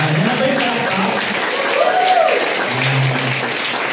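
An audience at a training event breaks into sustained applause, dense clapping from many people close by, with a voice calling out briefly over it.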